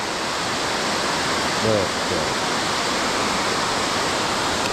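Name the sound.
river water flowing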